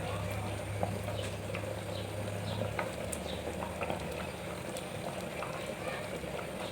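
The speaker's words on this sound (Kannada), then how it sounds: "ಇವಾಗ ಕುದಿ ಬತ್ತೈತೆ" Water boils in a pot while paneer biryani is being cooked, giving a faint, continuous bubbling patter close by with no other sound standing out.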